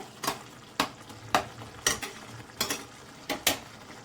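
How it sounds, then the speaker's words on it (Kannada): A jackfruit mixture thickening in a pan for kadubu as a spatula scrapes and stirs it in about seven sharp, evenly spaced strokes, close up over a faint sizzle, with no voices. "ಇದು ಸ್ವಲ್ಪ ಗಟ್ಟಿ ಆಗಬೇಕು, ಅಲ್ಲಿವರೆಗೂ ಚೆನ್ನಾಗಿ ಫ್ರೈ ಮಾಡ್ಕೊಳ್ಳೋಣ."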